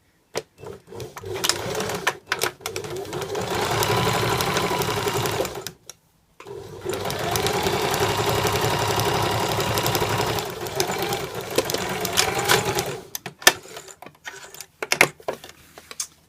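A sewing machine stitches a 1.5 cm seam in fabric, running in long steady bursts of rapid mechanical whirring separated by brief pauses, ending with scattered clicks and handling noises.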